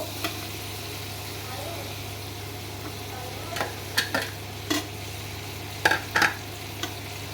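Oil sizzles steadily in a pan of spiced fried potatoes while a utensil scrapes and clinks against it several times in short bursts, with a low hum underneath.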